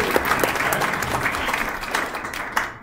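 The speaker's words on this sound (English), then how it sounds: "Everybody give a round of applause for Chip." Audience applause at a talk, dense and sustained clapping from a sizable crowd at moderate volume, thinning slightly toward the end.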